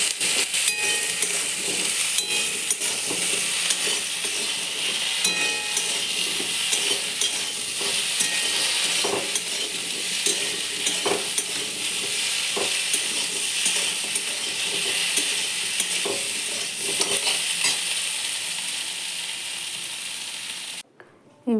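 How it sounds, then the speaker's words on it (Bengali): Okra with mustard stirred in a hot frying pan: a continuous loud sizzle broken by repeated scrapes and clinks of the utensil against the pan, close up, with no voices. "এবার বেশ কয়েকবার নাড়াচাড়া করার পর ঢাকনা দিয়ে ঢাকা দিয়ে দিলাম।"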